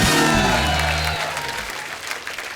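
A studio audience on a Hindi comedy talk show claps loudly and steadily to welcome a famous Urdu poet and lyricist, with a brief musical sting underneath at first; the dense applause then gradually thins and fades.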